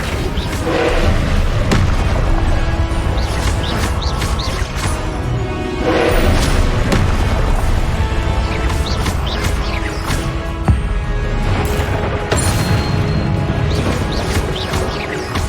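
Spells such as Confringo, Levioso and Flipendo go off in Hogwarts Legacy during Percival Rackham's Trial, with repeated loud booms and crashing impacts over dense, continuous game combat noise.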